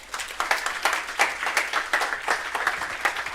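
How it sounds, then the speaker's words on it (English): An audience at a pharmaceutical summit applauding, with scattered, uneven clapping that pulses in small bursts over a few seconds at moderate volume. "you can clap for yourselves"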